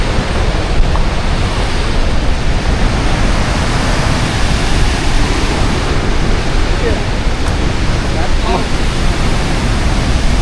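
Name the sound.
Mallalli waterfall in Coorg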